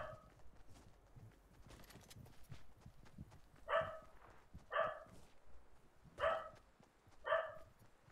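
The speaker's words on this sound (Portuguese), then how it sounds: "Ô cachorro chato, velho." A dog barking during a Fortnite match, four sharp barks spaced about a second apart at moderate distance over faint game ambience.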